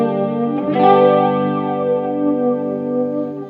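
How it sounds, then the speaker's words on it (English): A sustained electric guitar chord rings through the flanger effect of a Vault Fury 30 amp, its tone sweeping in a slow whooshing, jet-like swirl as the note fades. "Let's see how the flanger sounds."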